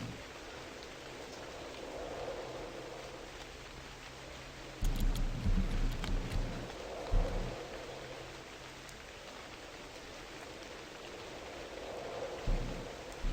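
Steady rain falls in the video game Novus Inceptio, a continuous hiss with occasional heavier low thumps and crackles partway through, no voices.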